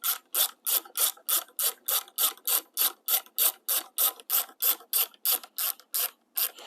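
A bolt is tightened into a CNC stainless drop-out on a Super73 e-bike, giving a rapid, steady ratcheting clatter of about twenty even, close clicks.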